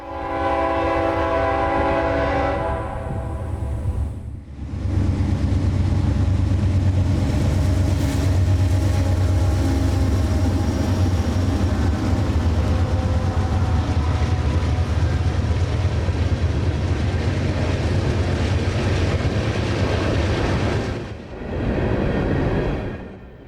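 Freight train 442, led by two YN2 AC4400 locomotives heading north at Folkston, Georgia, sounds a loud horn, then passes close with a sustained heavy engine roar and rumbling wagons before fading.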